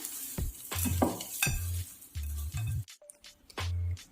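Horse gram and green gram snack ingredients being mixed in a pan, heard as a series of close, distinct scraping stirs and soft clinks separated by brief pauses, no talking.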